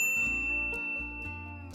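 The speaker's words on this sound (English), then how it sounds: "ring the bell to be notified about our latest videos" A bright notification bell dings twice with a clear metallic ring that sustains and decays between strikes, alone with no talk.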